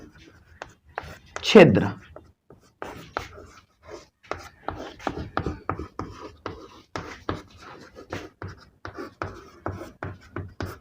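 Chalk or marker scratching across a classroom board in a biology lesson, a burst of strokes early on followed by many short, irregular scrapes, heard up close beneath a teacher's ongoing speech.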